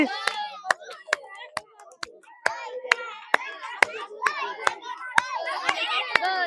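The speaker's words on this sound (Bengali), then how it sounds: "সবাই করতালি সবাই করতালি সবাই করতালি দাও" Children clap in a steady rhythm of sharp, loud, evenly spaced claps at a balloon-popping game, with kids' voices chattering and calling throughout.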